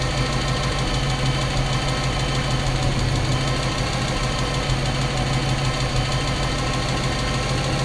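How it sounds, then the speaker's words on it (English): A 1959 Chevrolet Bel Air engine idles on a cold start after sitting for months, a steady close-up rumble with a rapid, even ticking from the valve lifters and no voices. "A little bit of a lifter tap, but that'll go away as it warms up."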